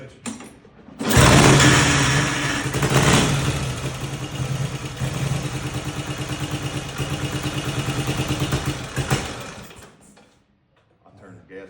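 A vintage motorcycle engine fires up and runs with a fast, even mechanical chatter, loud and close, for several seconds before cutting off, with faint voices nearby.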